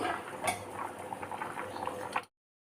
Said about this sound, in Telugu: ఇక్కడ పప్పు ఉడుకుతుంది